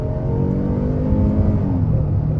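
A 2023 Kia Telluride SX AWD accelerating at about half throttle gives a steady, loud engine drone with rising harmonics and a shift partway through, heard from inside the cabin with no voices.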